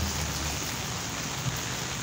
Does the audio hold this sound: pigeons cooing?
no